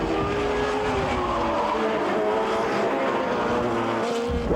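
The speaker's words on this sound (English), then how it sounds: "Midget racing." Three-quarter midget race cars circling a track, a continuous buzzing drone of small engines whose pitch rises and falls as they pass, moderately loud and slightly distant, with no talk.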